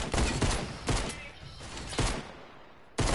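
Video game gunfire comes as a quick burst of sharp, loud shots followed by three more single cracks spaced about a second apart, with no talking in between.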